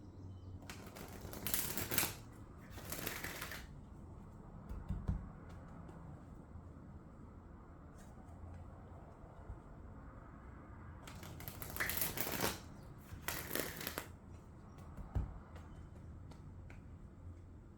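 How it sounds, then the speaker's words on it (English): Thick coated cards riffle in two close bursts near the start and again toward the end, crisp and dry against a faint room background with no voices. "I love the sound and the feel of these like weird thick coated cards when I shuffle them."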